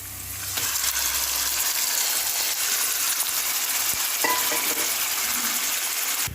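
Chicken pieces hit hot oil in a pan for spicy chicken curry, bursting into a loud, steady sizzle and frying hiss that carries on without a break, with a few scraping clinks of stirring.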